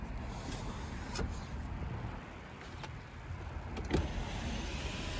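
Electric sunroof on a 2015 Audi A3 Premium 2.0T Quattro motoring open: a quiet, continuous motor whir inside the car with a few faint clicks and a soft thump near the end, no talk.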